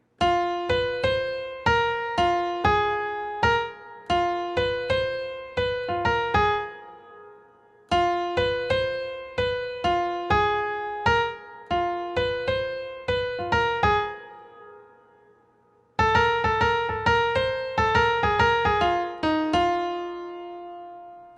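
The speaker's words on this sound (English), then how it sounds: "That's a 12-bar blues melody." A solo piano plays a 12-bar blues melody in three phrases with steady rhythmic chords and single notes, separated by short pauses, clear and close.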